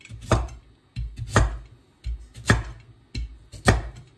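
Knife chopping rice dough balls for ginataang bilo-bilo, four loud, close cuts striking a board at an even pace of roughly one a second, each a sharp thud, with no talk.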